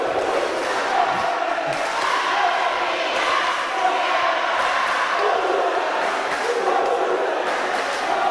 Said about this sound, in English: a cheer-off between the supporters of the St. Augustine team and supporters of the Mona team